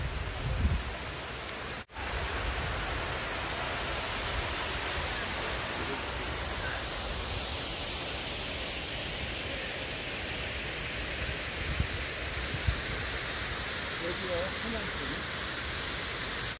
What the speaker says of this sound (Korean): 남는 물이 이쪽으로 이렇게 넘어와서 인공 폭포를 만드는 것이죠